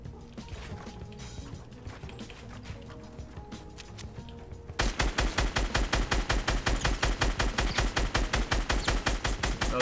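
Gunfire and bullet impacts in the video game Fortnite: scattered shots and hits at first, then a loud, rapid automatic burst of evenly spaced cracks hammering on steadily to the end.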